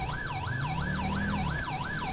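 Wailing ambulance siren in GTA 5 during a police pursuit, a loud continuous up-and-down sweep cycling steadily about once per half second over a low engine rumble, with no talking.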